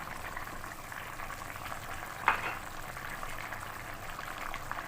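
Potatoes simmer in a pan with raw ground poppy seed paste for aloo posto with paneer, a soft steady bubbling up close, broken once by a single sharp clink.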